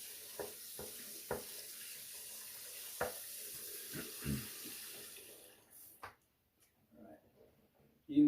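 A shaving brush is rinsed under a running tap, a steady splashing stream broken by sharp drips and knocks, then cutting off to near silence with a few faint sounds after.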